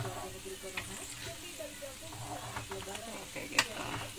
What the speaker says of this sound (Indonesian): Jadi goreng kacang itu susah gampang.